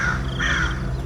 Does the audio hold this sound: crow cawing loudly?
yes